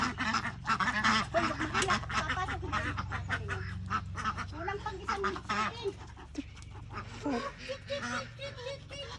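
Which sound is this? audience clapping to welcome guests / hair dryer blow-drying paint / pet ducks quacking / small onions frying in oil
pet ducks quacking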